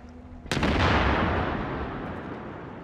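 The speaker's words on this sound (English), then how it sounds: "We'll shoot at him." A single heavy, booming shot from the video game Tom Clancy's The Division cracks out suddenly, followed by a long, rolling echo that fades slowly.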